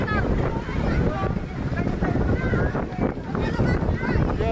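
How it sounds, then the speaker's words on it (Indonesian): Strong wind buffets refugee tents at a camp in Majene, roaring and gusting in uneven surges close to the microphone, with people speaking and shouting over it. "Ya Allah, angin di pengungsian sangat kencang."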